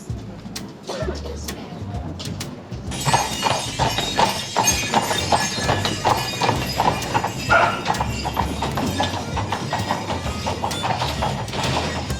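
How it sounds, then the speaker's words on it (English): Horses clip-clop through a Swiss town near the Grand Hotel, a steady run of sharp hoof knocks on pavement that starts quietly and grows louder and busier, with faint street noise around it. "You got horses. Real horses."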